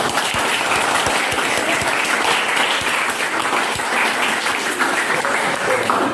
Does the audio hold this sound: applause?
yes